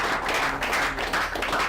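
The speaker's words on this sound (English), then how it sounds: "Please clap for this guy." An audience at a bootcamp event claps and applauds steadily, a dense, loud patter of many hands filling the room throughout.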